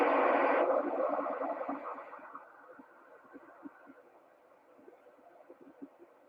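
Amateur radio receiver noise with the squelch fully open: a loud burst of hiss that fades into a lower rumbling static with faint irregular crackles, no voices.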